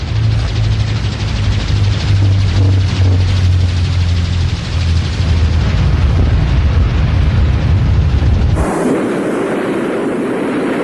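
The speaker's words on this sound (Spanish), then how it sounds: "Se confirma también por el radar de Puerto Argentino el despegue de helicópteros desde los buques" Helicopters lifting off from troop transport ships during the Falklands/Malvinas war, a loud continuous rotor and engine roar with low throbbing that stops abruptly near the end, leaving a quieter, different background.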